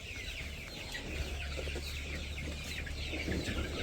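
Chickens cluck at a village morning feeding, a steady low chatter of several birds close by with some higher peeps, and no talking.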